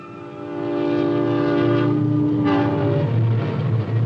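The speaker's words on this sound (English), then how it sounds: "It is the night train from the city." A night train from the city sounds a loud, sustained multi-tone horn that swells and holds over the rumble of rolling railcars.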